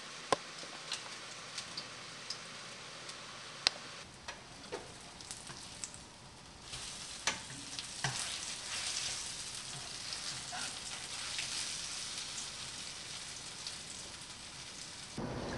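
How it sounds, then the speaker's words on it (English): Cakes pan-frying in oil in a home kitchen, giving a steady broadband sizzle with scattered pops and crackles that grows denser and louder after the first few seconds, heard alone without talk. "we just want to let them fry up in there until they get a little browned on each side"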